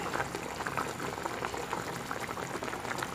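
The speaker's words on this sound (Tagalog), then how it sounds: "hayaan lang po muna natin siyang kumulo ng kumulo" A pot of pork afritada stew bubbling steadily under its lid, a continuous close simmering rumble with dense popping bubbles and no voices.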